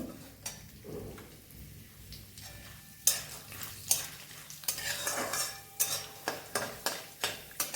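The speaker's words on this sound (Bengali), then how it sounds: "একটু ফ্রাই করে এর মধ্যে আমি এই ছোলার ডাল দিলাম। একটু ভেজে নিয়ে" Chana dal frying in a pan, stirred with a metal utensil that gives repeated sharp scraping clacks over a soft sizzle, close and fairly loud, no speech.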